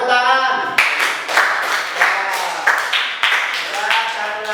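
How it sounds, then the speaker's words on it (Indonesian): A classroom of students claps hands together in several short bursts of rhythmic clapping, close and fairly loud, following a teacher's voice at the start. "tepuk tangan"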